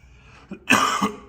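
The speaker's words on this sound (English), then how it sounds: "I am going to cough a couple times because it's the allergy season" A single sharp cough up close, preceded by a brief intake of breath, loud and harsh against a quiet background.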